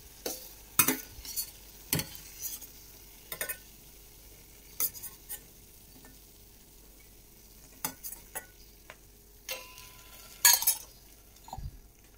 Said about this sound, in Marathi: आता याला आपण या पाकामध्ये टाकूया